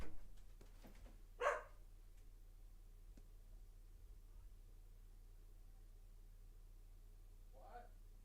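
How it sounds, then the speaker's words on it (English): A pet dog named Casper barks indoors, one short sharp bark and a later fainter one, heard at a distance over a low steady hum. "Now Casper's barking away here"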